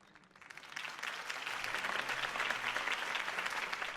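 Crowd applause in a video game after Harvey Dent's campaign speech, rising from quiet to a full, sustained roar of many hands clapping at a steady, fairly loud level.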